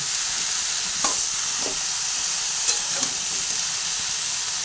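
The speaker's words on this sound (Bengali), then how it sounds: "লাউটা ভালোভাবে মশলার সঙ্গে মিশিয়ে দিচ্ছি" Diced bottle gourd tossed with spices in a hot pan gives a constant loud sizzling hiss, broken by a few faint scrapes of a spoon against the pan.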